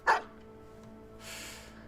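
Single short dog bark from the video game Battle Brothers, a sharp close yip at the start followed by a faint hiss of in-game ambience.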